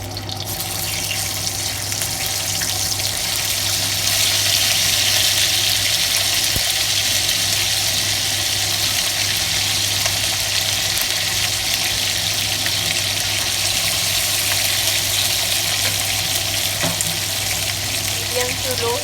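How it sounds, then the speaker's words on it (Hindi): Marinated mutton chops fry in hot oil in a pan, giving a steady, dense, loud sizzle that holds without pause throughout, close up and with no talking. "अब हम इसमें चापे फ्राई करेंगे।"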